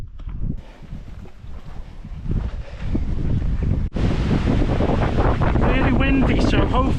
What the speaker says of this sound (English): Really windy, so hopefully you'll be able to hear me.